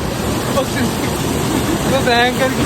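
Waterfall at Lake Mist near Mussoorie, Uttarakhand: a loud, steady rushing roar of falling water close by, with voices talking faintly over it.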